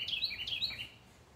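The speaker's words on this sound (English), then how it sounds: "hearing the birds chirp this morning" Several short, bright bird chirps ring out in quick succession on a November morning in a front garden, fairly faint and slightly distant, fading out after about a second.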